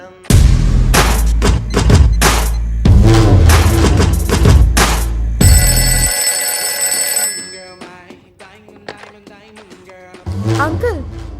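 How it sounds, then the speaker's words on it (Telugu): A shrill, ringing telephone tone cuts in for about two seconds over loud rhythmic film music with heavy thumps, then the music thins out and swells again. "daddy phone ring daddy"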